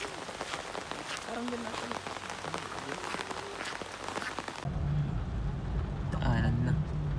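Rain falls steadily in the countryside, a dense broadband patter that runs throughout, with a voice talking briefly over it and a louder, closer wash of water near the end.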